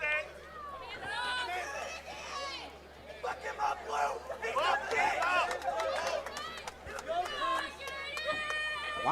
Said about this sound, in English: Wildest crowd I've heard in a while.